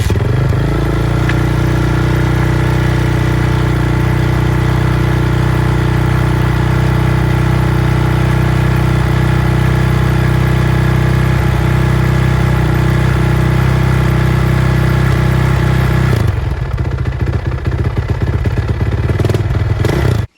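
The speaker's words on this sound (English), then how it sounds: "now you just want to give it 1 big kick and it should start" A Suzuki RMZ450 dirt bike engine runs loud and steady at idle right next to the listener, a thick mechanical clatter that holds for most of the stretch before abruptly dropping away near the end.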